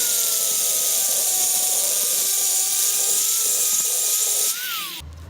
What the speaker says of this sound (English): We like running the grinder, it's fun.